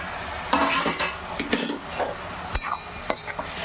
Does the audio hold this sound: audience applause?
no